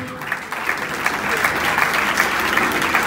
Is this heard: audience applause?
yes